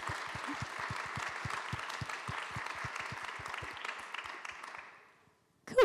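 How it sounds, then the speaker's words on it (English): Festival audience applauds a panel of speakers with steady, dense clapping for about five seconds before it tapers off quickly into near silence. "if you'll all join me in giving a round of applause to these wonderful people"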